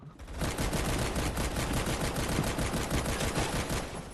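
A G40 rifle fires in the shooter game Phantom Forces, letting off a rapid, evenly spaced stream of loud shots that lasts several seconds without pause, with no voices.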